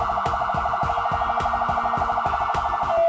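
An SCDF ambulance siren sounds its pulsar tone, a loud, rapid pulsing warble that stays level throughout, with a steady percussive beat underneath.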